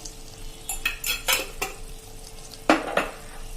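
Okra curry with garam masala is stirred in a pan, a spoon scraping and clinking against the metal in several irregular strokes over a faint sizzle.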